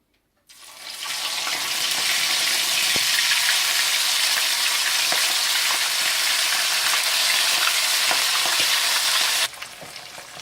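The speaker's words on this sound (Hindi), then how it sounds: "आप सारी चिकन को शैलो फ्राई कर लें" Chicken shallow frying in hot oil in a frying pan, a loud steady sizzle that bursts in abruptly and holds evenly for about nine seconds before cutting down, with no talking.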